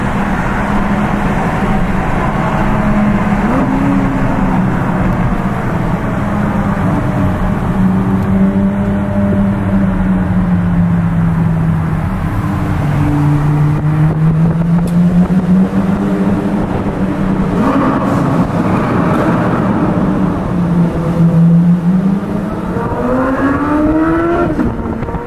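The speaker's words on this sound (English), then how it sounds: "It sounds like a supercar. It sounds like almost like a Lambo." A Chevrolet Corvette C8 Z06 in cherry red runs its engine loudly and steadily up close, the pitch sweeping up and down with repeated revs and throttle changes throughout.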